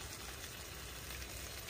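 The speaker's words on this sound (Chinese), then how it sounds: "等会儿这个肉煎完" Meat pan-frying over a camp stove at a countryside meadow campsite in France, giving a steady, even sizzling hiss that runs unbroken and alone.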